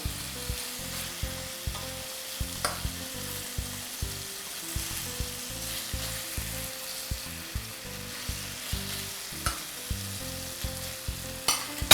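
Tomato sauce fries in a pot for an Algerian tajine, a busy close sizzle with regular soft stirring knocks repeating about every half second, with no voices heard.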